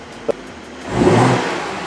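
A cold 2022 BMW M240i G42 coupe fires up: a short click, then the engine catches with a loud swelling roar that settles into a steady, slightly raised idle, close by.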